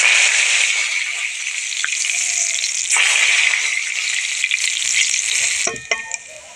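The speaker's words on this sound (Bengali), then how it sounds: "এই যে পুদিনা পাতাটাও ভেজে নেব।" Mint leaves frying in hot oil, a loud, steady, close sizzle with brief stirring clatters near the end.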